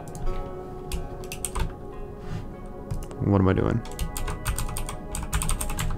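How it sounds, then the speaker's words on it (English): Rapid clattering keystrokes on a computer keyboard, close and fairly loud, with a person speaking briefly over the typing. "My keyboard is really loud."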